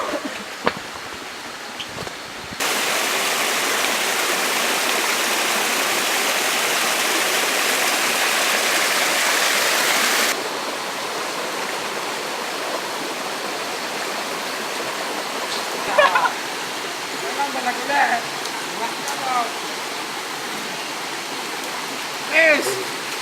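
The Telago Batu waterfall roars in a steady, loud rush of white noise that swells in the middle section, with faint voices and shouts breaking through toward the end.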